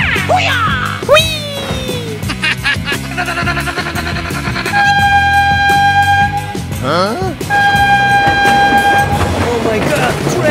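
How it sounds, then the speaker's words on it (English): A cartoon train rolls past with loud sustained horn blasts, set in a kids' animation with monster trucks, cars and a fire truck. Rumbling wheels sit under excited voices and busy music. "Oh my god, train!"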